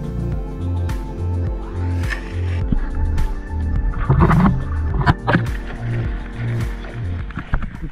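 A small boat on open water near an island lodge in Fiji, carrying a steady low engine drone with a pulsing rhythm, with wind and splashing over it, loud and continuous throughout.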